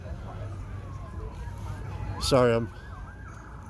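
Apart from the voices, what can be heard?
sirens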